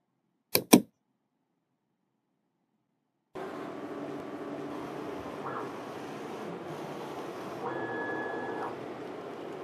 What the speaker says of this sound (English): So we go to choose step calibration and we click print.